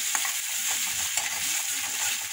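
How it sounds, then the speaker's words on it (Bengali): Onions frying in a pan with oil, a steady close sizzle with faint stirring scrapes throughout, no voices. "পেঁয়াজটা ভাজা ভাজা হোক,"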